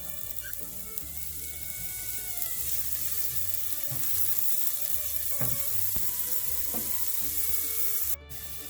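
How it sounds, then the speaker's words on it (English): Chopped garlic and finely chopped onions sautéing in a pan for tomato soup, giving a soft, steady sizzle with a few faint stirring taps, close and fairly quiet, with no voices. "saute for a minute"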